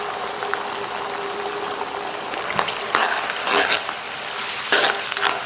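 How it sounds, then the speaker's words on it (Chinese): Sweet bean sauce and soybean paste fry and are stirred in a pan over low heat, giving a steady soft sizzle broken by a few scraping stirs, close and alone. "小火啊，把酱炒出香气"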